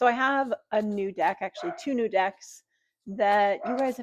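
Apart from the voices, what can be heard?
No everyday noises stand out.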